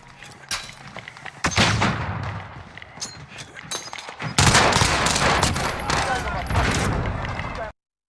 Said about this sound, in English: Here is a clip of me playing with Diamati, which is a burst weapon and one of the guns in the Gulag right now.